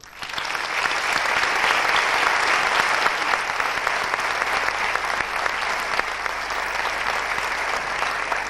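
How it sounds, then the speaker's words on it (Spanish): An audience at a 1995 literary festival in Tomelloso gives a poet warm applause, a loud, dense wash of many hands clapping that swells quickly and holds steadily for several seconds without voices. "Vamos a recibirlo con un caluroso aplauso."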